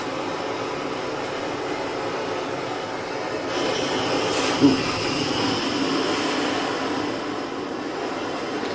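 A gas torch flame roars in a steady, close, broadband hiss as it heats a metal block for bending, with a slight swell midway and a faint click.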